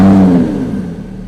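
A Lamborghini Huracan LP610-4 engine fires up with a loud, brief bark that quickly settles into a lower idle.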